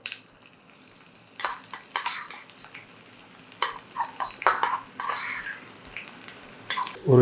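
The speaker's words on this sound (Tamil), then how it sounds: "வெங்காயம் சீக்கிரம் வதங்கிடும்." Chopped onions sautéing in a pan with mustard seeds, intermittent bursts of spoon scraping and clattering against the metal with quiet gaps, over a faint low sizzle.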